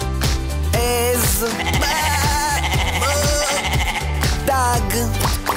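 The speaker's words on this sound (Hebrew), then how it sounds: "עז," Goat bleating in a children's morning song, with repeated wavering bleats riding over loud, rhythmic music with a steady beat.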